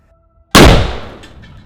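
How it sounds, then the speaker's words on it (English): A controlled stunt explosion of high explosive charges and gas erupts in one sudden, loud blast after a moment of quiet, then roars and crackles as it slowly decays over the next second. "So that's all a controlled explosion, which should engulf the stuntman completely"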